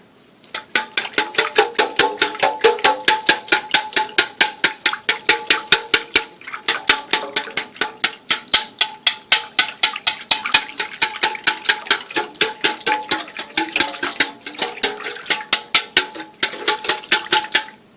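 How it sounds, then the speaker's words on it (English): Brownie batter made with beeswax is whisked rapidly in a bowl, giving loud, close, rhythmic clicking strokes that run almost nonstop with brief pauses, no speech. "Do some more whisking."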